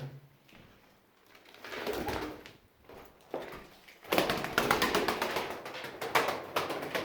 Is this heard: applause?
no